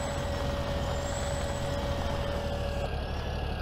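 An International 60-series turbo diesel tractor in Farming Simulator 17 runs with a steady, loud engine drone and a constant high whine on top, which cuts out just before the end, with no talk.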